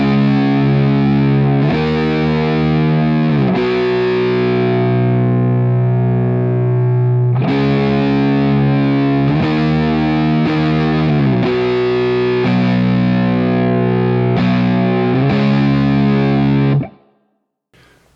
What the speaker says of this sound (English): when they get into the chorus, they play on the overdriven guitar